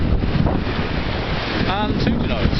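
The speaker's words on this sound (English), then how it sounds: "wind's about 20 knots" Steady wind roars across the microphone aboard a sailboat running under two genoas at sea in about 20 knots of breeze, with water rushing constantly beneath and someone speaking briefly over the gusts.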